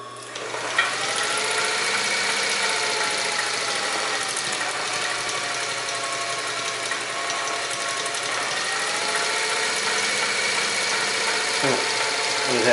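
An Adler 167 or Bernina 217-N industrial sewing machine runs steadily, stitching through the heavy seam of a blue jeans pant leg, a loud continuous motor whir with a rapid mechanical hum that holds nearly constant throughout.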